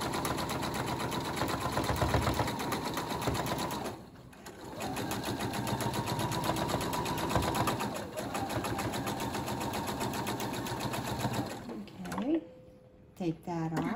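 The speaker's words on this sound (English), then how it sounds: "go to my sewing machine and put these two together for a 64Z. Sewing a quarter of a seam" A sewing machine runs continuously, stitching a quarter-inch seam on quilt fabric pieces, with a fast, steady mechanical whir that briefly pauses midway and stops near the end; a voice talks over it at times.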